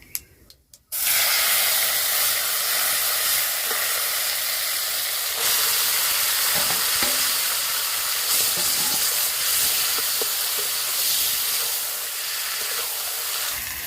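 Boiled taro leaves hit a hot pan of tempered spices with no onion or garlic, setting off a sudden loud, steady sizzling hiss that keeps going without any talk.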